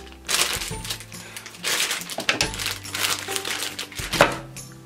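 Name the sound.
scissors cutting open paintbrush packaging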